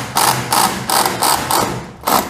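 A cordless drill backing out a short screw, five or six loud rhythmic ratcheting bursts of the clutch slipping in quick succession, close and alone.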